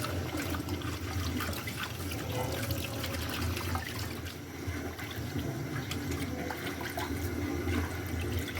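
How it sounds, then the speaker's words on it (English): Coriander leaves being washed under a running tap, a steady loud splash and trickle of water filling a sink, continuous throughout with no talking. "Wash some coriander leaves perfectly."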